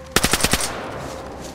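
A quick burst of about five gunshots rings out in the DayZ video game around Novy Sobor, loud and close, then fades into a low background hum.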